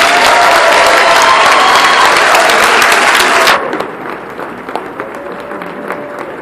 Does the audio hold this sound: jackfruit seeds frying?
no